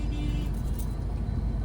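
A car drives through dense traffic in second gear at night, a steady low engine and road rumble filling the moment with no pauses and no speech.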